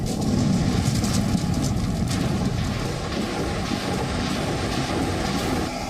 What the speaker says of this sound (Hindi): आसमान में उड़ते घातक लड़ाकू विमान